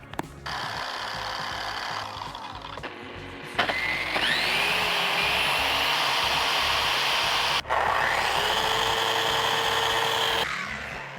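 Power sander working on a surfboard, a close, steady whirring drone interrupted by a few short stops and restarts, with pitch shifting as pressure changes.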